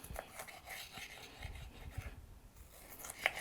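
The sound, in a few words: knife cutting bell pepper into strips on cutting board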